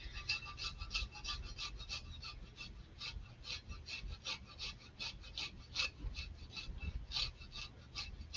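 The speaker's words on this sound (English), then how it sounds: "you can just use the smallest side of a grater and grate that right in." A garlic clove rasped across the smallest side of a handheld grater, a steady run of quick, close scraping strokes repeating in an even rhythm without pause.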